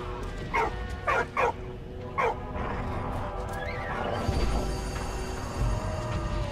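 A dog in the World War I video game Valiant Hearts barks several times, in short yipping bursts early on, over a steady game ambience with soft music.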